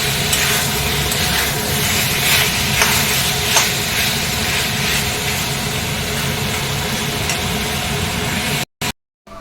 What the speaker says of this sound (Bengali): দেখো আমার ভালো করে কষানো হয়ে গেছে, এবার জল দিয়ে দেবো।